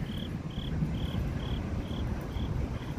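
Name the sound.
crickets chirping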